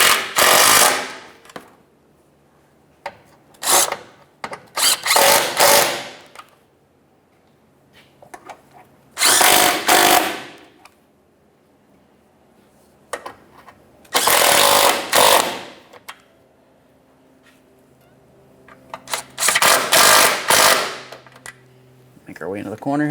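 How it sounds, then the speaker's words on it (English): A power tool drives 10mm-headed bolts on the AC condenser cooling fan assembly of a 1994-1997 Honda Accord 2.2L, loud buzzing rattling bursts of one to two seconds repeating with quiet gaps between, close up. "Now we can snug up those 10mm headed bolts."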